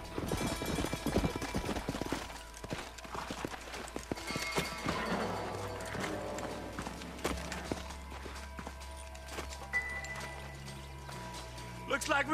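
Horse hooves in Red Dead Redemption clip-clop at a walking pace, close by, mixed with game music, a low drone and scattered clatter.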